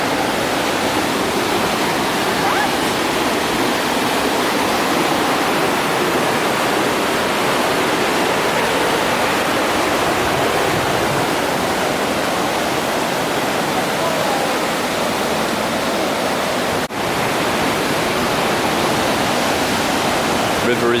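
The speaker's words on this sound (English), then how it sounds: "It was wet all day yesterday, so the river's quite full." A river in Snowdonia, swollen after a day of rain, rushes past close by with a loud, unbroken roar that fills the whole scene.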